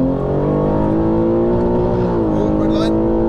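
A stage 2 tuned 700 bhp BMW M3 G80 engine pulls hard in third gear, a loud, dense harmonic roar climbing steadily in pitch toward the redline from inside the car, with a voice speaking over it.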